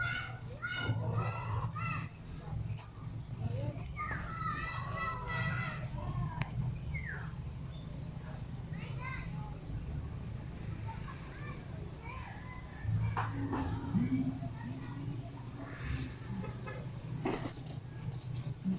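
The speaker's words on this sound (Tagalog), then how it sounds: "naghahapon na ng mga manok" A flock of chickens clucking and calling as they settle to roost in the late afternoon, a busy mix of bird voices throughout, with children and people talking in the background outdoors.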